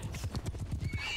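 Horses gallop in a cavalry charge in the game Mount & Blade II: Bannerlord, rapid close clip-clopping hoofbeats with a whinny, loud and continuous, no voices.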